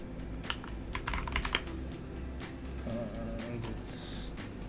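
Fingers type on a computer keyboard while code is being written, a quick, uneven run of close keystroke clicks with bursts of faster taps and brief pauses, no talking.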